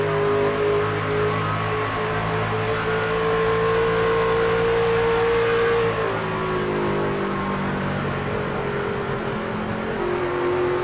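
Race truck engine in the iRacing video game, a steady loud drone that holds for about six seconds, then drops in pitch and settles back at a lower, slightly quieter level.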